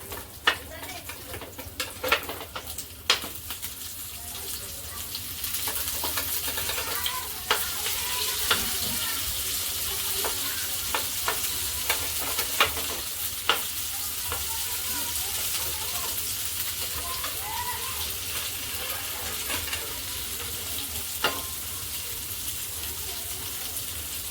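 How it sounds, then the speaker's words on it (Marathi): Bombay duck (bombil) fish fries in a pan, a steady hiss of sizzling oil with scattered scrapes and clicks of a utensil while the pieces are turned, fairly close and moderately loud. "दोन्ही बाजूने खरपूस भाजून घेऊया आता बोंबील आपण दुसऱ्या बाजूने पलटून घेऊया"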